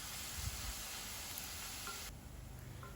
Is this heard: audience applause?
no